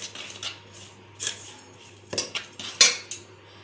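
A spoon clinks and scrapes against a bowl while malpua batter with raisins, fennel and cardamom is mixed, giving a series of close, uneven taps and rubs with short pauses between them.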